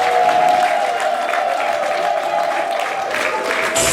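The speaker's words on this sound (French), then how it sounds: "je voudrais que vous l'applaudissiez quand même encore une fois" Applause from an audience at a surprise 60th birthday celebration in Orly-Ville, honouring a wife's gift to her husband; steady, dense clapping at close range over a hum of crowd noise for the whole stretch.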